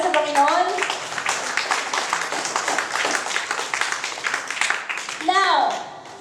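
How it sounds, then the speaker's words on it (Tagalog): A church congregation claps together in a dense, steady burst of applause that runs through the whole stretch, with voices calling out over it at the start and again near the end. "sa malakas na palakpak para sa Panginoon"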